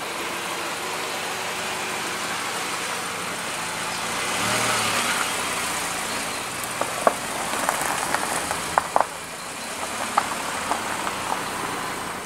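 A car engine runs at a steady idle under a broad wash of noise as the car pulls into a country-house garage, followed by a series of sharp knocks and clicks near the end. No one speaks.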